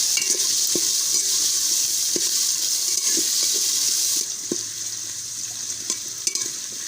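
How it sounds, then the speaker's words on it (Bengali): Peas and carrots being fried and stirred in a pan for vegetarian Gobindobhog rice khichuri: a steady hiss of sizzling under repeated scraping strokes of a spoon, quieting partway through, with no one talking. "এবার মটরশুঁটি, গাজর সব কিছুর সাথে ভালোভাবে ভেজে নেব।"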